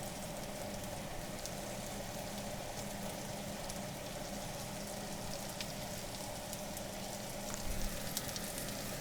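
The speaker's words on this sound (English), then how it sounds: "We're stirring and we're frying." Beef and garlic stir-fry in an uneven pan for Thai basil beef bowls, giving a steady dense sizzle with faint crackles. A brief louder scrape comes near the end.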